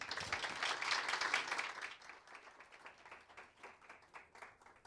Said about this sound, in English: one more round of applause for our chief guest